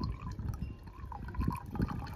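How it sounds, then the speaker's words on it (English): Liquid is poured off for filtering during gold recovery from scrap electronics, making a close, gurgling trickle with small splashes that lasts a couple of seconds. "I'm going to pour this off."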